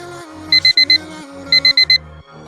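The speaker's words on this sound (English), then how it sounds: "we'll set our timer for 10 minutes" A kitchen-style timer alarm sounds loudly after ten minutes of bleaching knots on a lace frontal: two bursts of four rapid, shrill beeps over a steady background tone.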